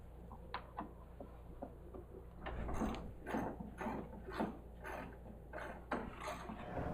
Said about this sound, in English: I've got my 1/4-inch socket wrench with a 5/16 inch socket on there, and we're gonna just start removing those.